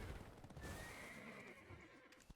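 A horse neighs once in the Black Desert Online video game, a clear rising whinny over steady low in-game ambience and faint hoof clatter.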